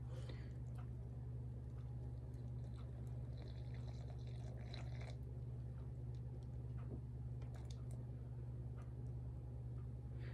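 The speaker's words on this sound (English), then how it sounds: "we're gonna put in 100 grams of water" About 100 grams of water poured onto a kitchen scale, a soft, continuous trickle over a loud steady low hum, faint and close, with no one speaking.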